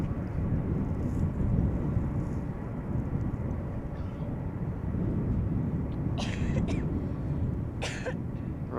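An airliner climbs out after takeoff from Schiphol Airport with its flaps fully retracted, giving a steady broadband roar that holds throughout, with a couple of brief sharper noises near the end.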